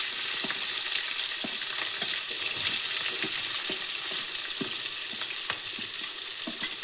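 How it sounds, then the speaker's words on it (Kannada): Onions frying in hot oil with mustard seeds, curry leaves and green chili, a steady dense sizzle with scattered sharp crackles and pops throughout, close and continuous, no voices. "ಸೊ ಇದನ್ನು ಚೆನ್ನಾಗಿ ಒಂದು ರೌಂಡು ಫ್ರೈ ಮಾಡ್ಕೊಳ್ಳೋಣ"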